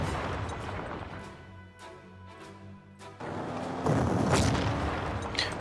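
Artillery fire in a WWII strategy game covering the 1939 Warsaw campaign, a dense rumble of booms and impacts that grows heavier and louder toward the end, with no talking.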